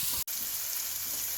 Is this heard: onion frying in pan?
yes